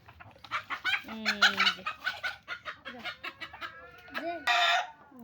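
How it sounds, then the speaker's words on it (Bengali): A big rooster and hens on a small farm cluck loudly and rapidly in short, excited bursts close by, with a crow-like call rising near the end. "আমার ছোট্ট খামারে বড় রাতা মোরগটা এখন জব করে ফেলবো।"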